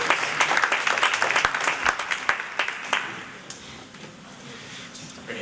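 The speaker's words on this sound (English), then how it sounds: "Let's give them a round of applause." Audience applause for student startup competitors at a high school pitch competition evening, a dense burst of clapping that builds loudly then gradually thins and fades over several seconds.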